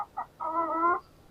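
Hens clucking in a hen house holding white, grey and red chickens, with a short burst of clucks followed by a longer, louder run of calls, all fairly close.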